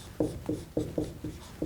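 A pen writes out a truth table in quick, close strokes, about six scratchy taps in an uneven rhythm, with no voices.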